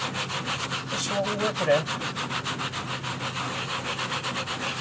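Rapid back-and-forth scrubbing rubs permanent marker off a cooler with a stain remover, a close, even rhythmic rasp, with someone briefly speaking over it.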